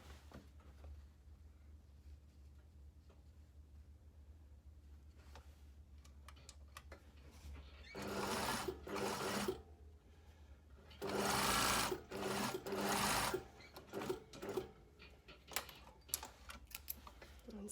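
A domestic sewing machine stitches across a blazer hem facing in two or three short bursts of rapid, close whirring, separated by quieter pauses and light handling clicks.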